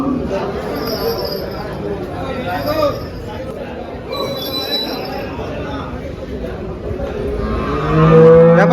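Cows at the Dhule cattle market, where HF and Jersey cows are sold, low and moo amid a busy outdoor crowd, with people talking throughout and a louder bellow near the end.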